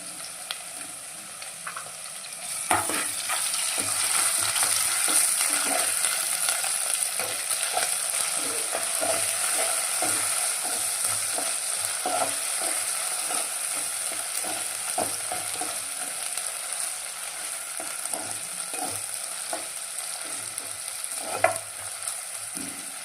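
Ginger garlic paste fries in a hot pan for a mushroom curry, giving a continuous, fairly loud sizzle with repeated scraping and stirring strokes of a spoon across the pan.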